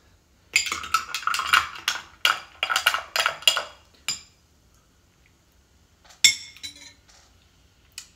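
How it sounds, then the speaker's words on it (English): A spoon stirs whisky and Dr Pepper in a glass, giving a fast run of bright clinks and taps, then a pause and a few more clinks, close and clear with no talking. "Let me give it a quick stir."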